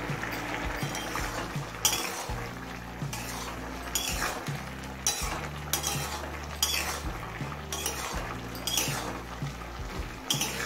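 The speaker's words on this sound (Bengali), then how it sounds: "ঢাকা খুলে একটু নেড়ে নিলাম।" A utensil scrapes and clinks against a pot while pumpkin and capsicum curry is stirred, a series of scraping strokes and taps at a steady pace with no talk.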